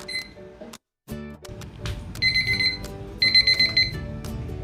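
A kitchen timer alarm signals the end of steaming banana cakes, repeated rapid electronic beeping in two loud pulsing bursts over a background of faint music-like tones.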